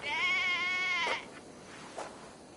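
A sheep in the video game Assassin's Creed Valhalla lets out one loud, wavering bleat up close, followed by two short, fainter bleats.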